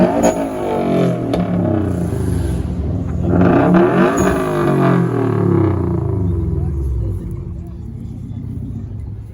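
Car engines rumble and rev loudly at a street car takeover, swelling in the middle as one revs harder, with a Honda among the cars and voices talking and shouting over the noise.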